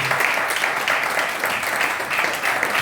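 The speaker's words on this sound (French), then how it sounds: "Est-ce qu'on peut acclamer pour le Seigneur?" A church congregation claps and cheers in praise of the Lord, a steady dense wash of applause filling the room from start to finish.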